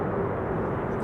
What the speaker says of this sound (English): Reversers used by KLM.